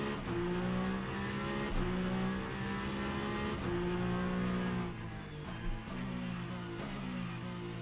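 A hypercar engine in the Le Mans Ultimate racing game whines steadily at high revs, with brief dips and shifts in pitch, a continuous, fairly loud tone and no voices.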